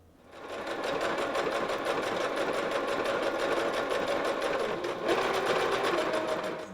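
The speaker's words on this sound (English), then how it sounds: "I'm just going to sew along both of these lines." A sewing machine stitches fabric for a Norse hood, running in a steady, rapid mechanical chatter that starts after a brief pause and continues loud and close throughout.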